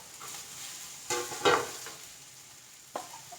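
Capsicum dropped into a pan of frying tomatoes, a soft steady sizzle with a few louder bursts of crackle as the pieces hit the hot oil, close and without speech.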